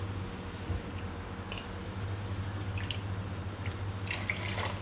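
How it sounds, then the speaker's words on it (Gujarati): Water poured into a pot of corn for Gujarati khichu, with soft dripping and splashing liquid over a steady low kitchen hum, close and fairly quiet throughout. "તો અડધી વાટકી બીજું પાણી નાખીશું."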